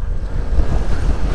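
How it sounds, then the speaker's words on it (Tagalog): Heavy downpour roaring steadily on arrival in Mambusao, Capiz, a dense, loud broadband wash of rain with low rumbling, continuous and unbroken with no voices over it. "Buhos na ang ulan ang sumalubong sa amin"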